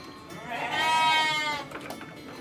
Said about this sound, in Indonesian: tetapi domba juga ada.